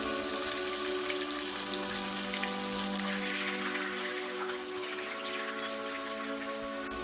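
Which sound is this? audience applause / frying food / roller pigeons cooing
frying food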